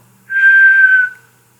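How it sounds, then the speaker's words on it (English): A single clear whistle holds one steady pure pitch for about a second, loud and close, with near silence before and after. "is something we can generate by whistling"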